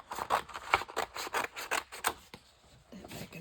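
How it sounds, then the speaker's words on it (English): Scissors cutting cardboard in a papercraft session, a close series of crunchy snips in an uneven rhythm with short pauses and a softer rustle near the end, no talking. "Let's cut this down to size."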